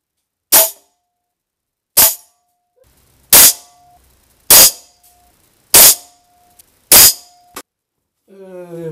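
A Dan Wesson 715 air pistol fires pellets in six evenly spaced sharp cracks, each with a brief metallic ring, loud and close, followed at the end by a short stretch of talking.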